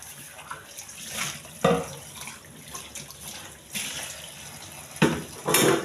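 Tap water runs into a kitchen sink during dishwashing, a steady hiss of flowing water with brief louder splashes as dishes pass under the stream, close and alone.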